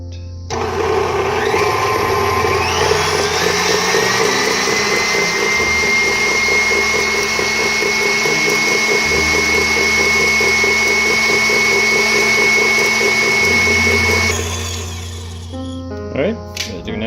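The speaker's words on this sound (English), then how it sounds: "we're going to mix this on high for 1 minute." An electric mixer runs on high through lemon cake batter in a Ninja Foodi kitchen, a loud steady whir with a high whine that holds for about fourteen seconds and then cuts off.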